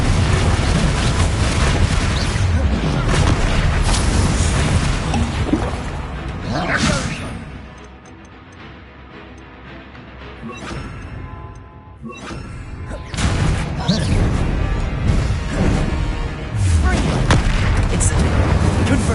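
Repeated Confringo spell blasts from a Harry Potter video game, loud booming explosions with whooshes arriving in dense bursts, easing into a quieter stretch before erupting again.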